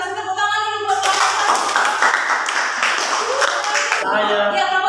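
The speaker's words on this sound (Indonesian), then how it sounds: "Kasih tepuk tangan dulu buat kelompok" A classroom of students claps together for a group that has just presented about soil and compost, in a loud, dense burst of several seconds between a teacher's voice before and after.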